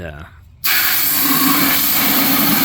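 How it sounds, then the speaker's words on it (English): A moment of quiet sound gives way to a sudden, steady hiss as a garden hose sprays water forcefully and continuously, rinsing soil from the base of plants. "I'm going to use a garden hose and start rinsing the dirt away from the base of those 2 plants"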